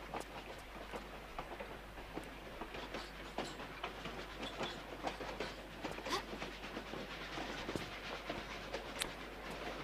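A train rolls along the tracks in the video game Tomb Raider IV: The Last Revelation, a steady, faint rumble with dense clicking and rattling throughout and no voices.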